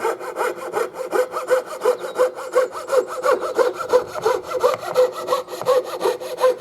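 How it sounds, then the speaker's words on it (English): A coping saw cuts through wood in long, even strokes, a steady rhythmic rasp repeating about twice per second, close and loud with no talk. "You'll notice when I'm sawing with a coping saw, I'm doing nice long strokes."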